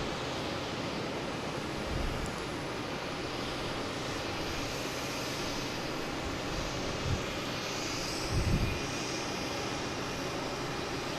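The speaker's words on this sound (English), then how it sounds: "I think we got a Cape Air coming in here from Rockland, Tectum 2012, landing on 27." A Cape Air Tecnam airplane landing on runway 27, a continuous broad roar of engine and wind noise from a distance, steady throughout with slight swells and no voices.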